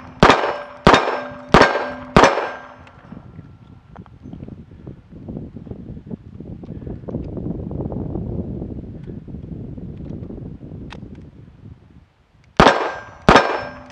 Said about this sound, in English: light 38 special loads are so pleasant to shoot